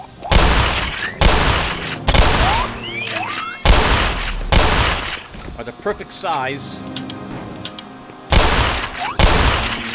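Shotgun blasts aimed at sound hound creatures in the video game Black Mesa, several loud booming bursts in irregular succession with someone talking over and between them.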